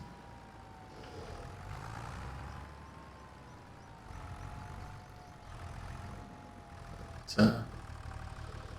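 A Case Farmall tractor engine in Farming Simulator 25 hums steadily at a low idle, rising and easing slightly in waves, with one sharp click near the end.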